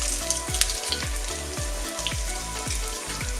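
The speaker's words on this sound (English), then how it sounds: "Now the onions have softened down, I can add the crushed garlic." Chopped onions and crushed garlic sizzle and fry in a pan for a lamb shank tagine, a steady close crackle with small spits and pops, no voices over it.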